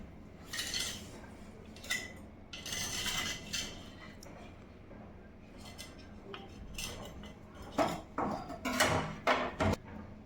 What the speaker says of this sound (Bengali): প্রথমে একটা ছুরি দিয়ে প্লেটের এই সাইডগুলোকে আমি একটু আলতোভাবে হালকা করে তুলে নেব